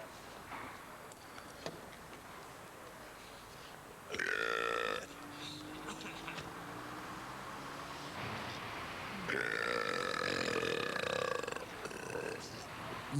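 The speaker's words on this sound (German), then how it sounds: "Die Rülpser gehen um in der Hauptstadt." A man burps loudly outdoors on a Berlin street, with two long, deep belches separated by quieter ambient street noise.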